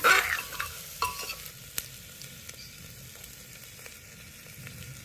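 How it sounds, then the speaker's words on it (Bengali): Mutton leg pieces stirred with vegetables in a sizzling pot for a stew, opening with a louder scrape and clatter, then settling into a quieter steady fry with occasional utensil taps. "মটনের লেগ পিসগুলো ওই সবজির মধ্যে আমি দিয়ে দেবো দিয়ে সবজির সাথে একটু নাড়িয়ে নিচ্ছি"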